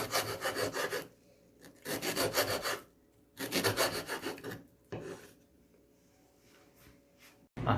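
A knife works through an ingredient for carbonara on a board, a rough, rasping cutting sound in several bursts separated by quieter pauses, close and moderately loud, with no talking.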